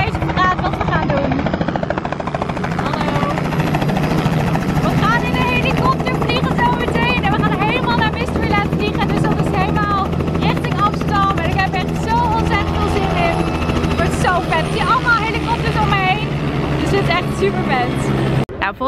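Loud helicopter rotor thumping and engine whine close by, constant throughout, with people talking over the noise.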